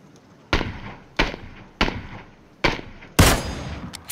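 Gunfire in the battle royale game PUBG: five sharp, loud shots spaced about half a second apart, each with a short ringing tail, the last the heaviest.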